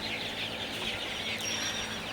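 Thirty-day-old Sonali super hybrid chicks in a poultry shed during sweltering heat, a continuous dense chorus of high cheeping and chirping from many birds close by.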